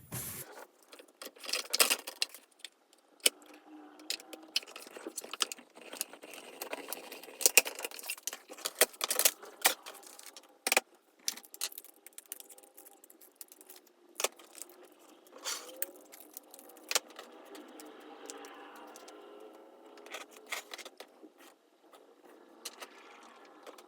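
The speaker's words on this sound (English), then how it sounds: "So now I'm going to cut these out with my die on this side. I'm using the mini cut and emboss machine." Mini cut and emboss die cutting machine running a die through cardstock, soft intermittent clicks, rattles and faint mechanical whirring, quiet and close with no voices.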